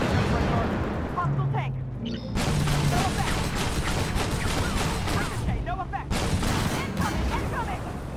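Artillery fire and tank combat in the video game Armored Warfare, a dense, loud rumble of booms and mechanical clatter filling the whole clip, with a voice talking over it.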